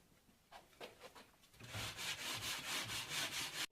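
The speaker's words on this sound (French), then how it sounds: "On rabote, on se met à fleur." A plane shaves the edge of plasterboard flush, with a few short rasping strokes followed by a faster run of repeated scraping passes, fairly close and moderately loud.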